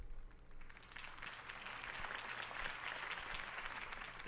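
A crowd applauds a campaign speech in a Batman video game, sustained clapping and faint cheering heard from a distance at low volume, steady throughout.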